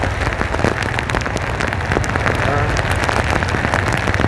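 Heavy rain pours down on a street in Cầu Kho near Chợ Cũ, District 1, Saigon, a dense loud continuous hiss and patter close to the microphone.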